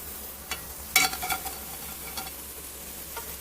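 Raw banana chakli frying in hot oil, a soft continuous sizzle broken by a few short bursts of stirring and scraping against the pan.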